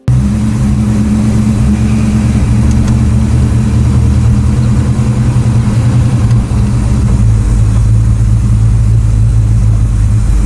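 Deep, steady engine rumble from a Ford Deluxe Coupe with a 3.6-liter flathead V8 in the racing game Motor City Online, holding a loud, constant low drone with slight revving throughout.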